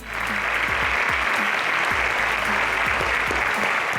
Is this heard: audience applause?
yes